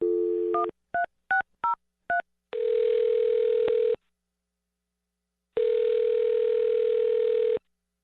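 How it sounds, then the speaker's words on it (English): A telephone handset dials a number: a brief dial tone, then a quick run of five or six short keypad beeps, followed by two long, steady ringing tones separated by a silent gap. "I'm going to dial her phone number right now"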